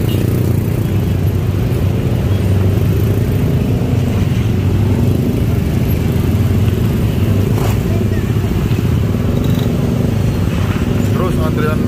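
Steady rumble of a long queue of holiday travellers' motorcycles waiting at Merak port at night, engines idling and revving continuously under background chatter and talk.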